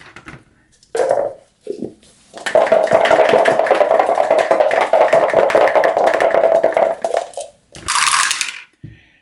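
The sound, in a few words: dice rolled through a dice tower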